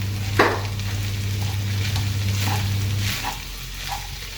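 Egg fried rice hisses and crackles in a hot pan as it is stirred, a few distinct clanks of the utensil against the pan over a low steady hum.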